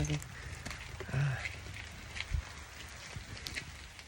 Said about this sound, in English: Yep, the rain is picking up.